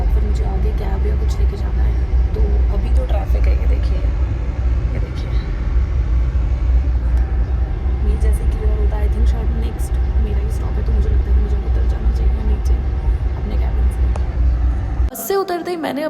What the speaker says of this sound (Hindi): तो अभी तो ट्रैफिक है, ये देखिए